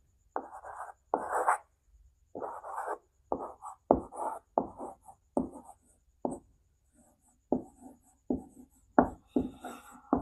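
Writing on a board during a Hindi grammar lesson: a steady run of short, scratchy strokes, clear and close, with brief pauses between them and no voice.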